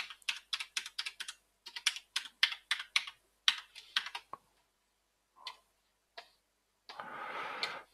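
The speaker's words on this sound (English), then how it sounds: "I type my password in right." A password is typed on a computer keyboard in a quick run of light, close key clicks, then a few isolated taps and a short rustle at the end.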